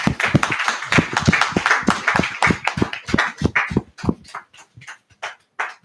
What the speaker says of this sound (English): Let's give out the Most High round of applause for the portion.